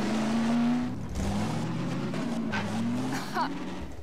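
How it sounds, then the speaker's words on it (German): Car engine in the video game Half-Life 2 Episode Two revving with a steady droning tone that rises and falls as the throttle is applied, continuous and fairly loud throughout. "ich finde die Zündung geil. Von meinem Motor. Jedes Mal, wenn ich Gas gebe."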